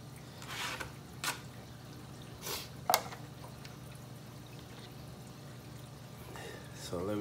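Water is poured into a homemade algae scrubber in short splashing bursts with a few drips, fairly quiet against a steady background hum.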